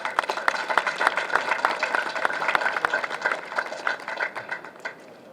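Crowd applause at a San Jose Veterans Day parade marking the Armistice Day centennial: a steady patter of many hands clapping outdoors for about five seconds, with sharper individual claps standing out before the sound gradually thins.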